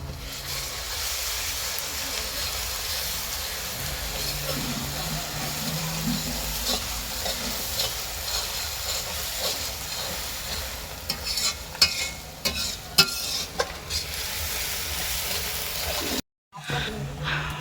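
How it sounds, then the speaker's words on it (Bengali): Ginger and garlic paste frying and being stirred in a pan while cooking a chicken curry with potato and cauliflower, a steady sizzle with scraping stirs that grows busier toward the end, heard close with no talking. "আদাটাও একটু ভেজে নিতে হবে আচ্ছা।"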